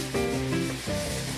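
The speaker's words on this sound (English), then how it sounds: "Then we're going to deglaze the pan with about 6 tablespoons of bourbon" A pan sizzles as it is deglazed with bourbon while cooking a catfish mousse with crayfish sauce, a loud close hiss with bubbling tones that dips briefly and then resumes.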